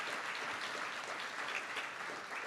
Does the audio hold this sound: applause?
yes